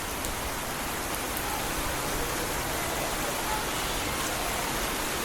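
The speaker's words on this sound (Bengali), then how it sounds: "কি বৃষ্টি পড়ছে জোরে" Heavy rain pours down steadily during a sudden downpour in Hyderabad, a dense, even hiss that stays loud and unbroken throughout with no voices.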